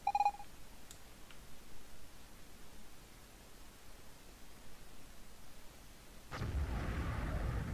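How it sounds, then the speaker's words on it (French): A video game explosion in Evoland II bursts in near the end as a loud, deep rumbling blast that keeps roaring, after a long, quiet stretch broken only by a few soft electronic blips at the start. "Une explosion."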